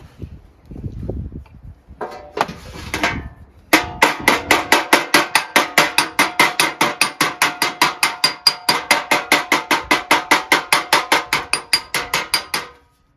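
Rapid, rhythmic metallic hammer blows ring out close by, dozens of evenly spaced strikes on sheet metal after a brief shuffle of handling noise, shaping a 1954 Chevrolet Bel Air fender skirt.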